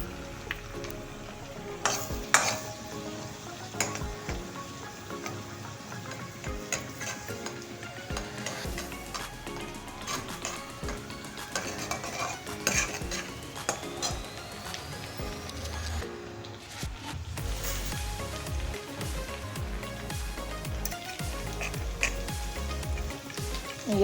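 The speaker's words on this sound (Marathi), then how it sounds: "अर्धा चमचा जिरे टाकते मी इथे. ठेचलेला लसूण" Cumin and crushed garlic frying in a pan for palak paneer, a steady crackling sizzle under intermittent close stirring and scraping, with occasional sharp taps of the utensil, no talking.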